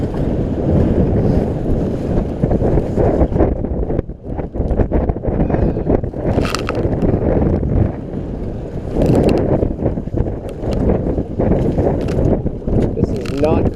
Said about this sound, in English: I think it's gotten fucking windier.